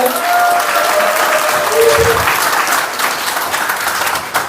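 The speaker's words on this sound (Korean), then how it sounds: "큰 박수와 청으로 맞아주십시오" A large hall crowd at a political party's founding convention in Incheon breaks into loud, sustained applause, a dense roar of clapping with a faint voice or tone briefly underneath.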